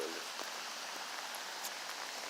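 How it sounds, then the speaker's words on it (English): A light rain shower falls outdoors as steady, soft broadband patter, fairly quiet and continuous with a few brief louder drops. "The first rain shower."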